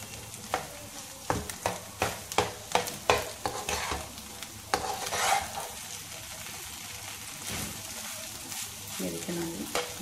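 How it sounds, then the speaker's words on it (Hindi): Crushed almonds roast in a pan for a sweet bread pudding, with a soft sizzle under repeated scraping and stirring strokes that come in quick bursts and then settle into quieter frying. "दो से तीन मिनट भूनने के बाद नाजी और मैं इसके में क्रश आलमंड ताकि वो भी इसके अंदर खुशबू आ जाए, बादाम रोस्ट हो जाए"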